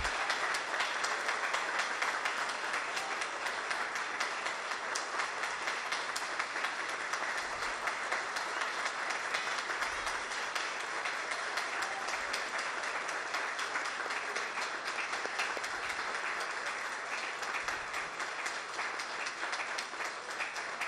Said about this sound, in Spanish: por favor otorguémosle a este querido pastor un fuerte aplauso